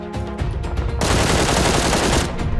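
Rapid automatic gunfire from a QBZ rifle in PUBG bursts out in a dense, continuous rattle, loud and close, with a brief pause between volleys.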